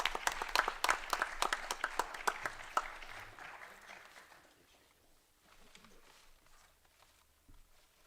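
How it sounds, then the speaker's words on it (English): Audience applause at a board of education meeting, with scattered sharp claps, loud at first then fading over a few seconds into quiet room noise with a few stray claps. "how about a nice round of applause for both of these gentlemen?"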